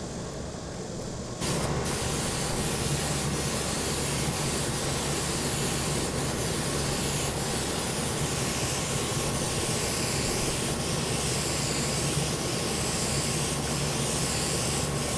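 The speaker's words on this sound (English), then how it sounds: "Now it's time to spray our Formica." A steady, loud aerosol spray hiss of contact adhesive being sprayed onto Formica laminate for an arcade cabinet runs continuously after a short quieter start.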